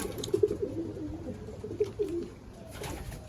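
Racing homer pigeons coo nearby in a loft, soft throaty rolling calls repeated a few times over a low murmur of background noise, then fading into quieter ambience.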